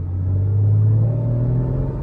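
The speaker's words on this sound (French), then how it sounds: "tu as quand même un son typique Porsche qui est bien rauque" A Porsche engine and exhaust run close by with a steady, deep, raspy low drone that holds at the same level throughout.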